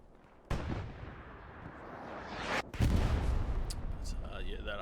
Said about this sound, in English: that artillery just absolutely locking them in